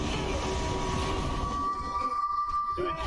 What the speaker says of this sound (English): Oh god, there's a train coming.